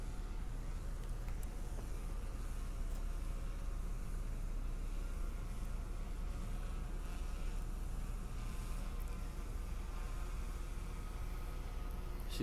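A DJI Phantom 3 drone hovering and flying outdoors, a continuous buzzing whine of propellers that holds steady and moderately close throughout with no talk.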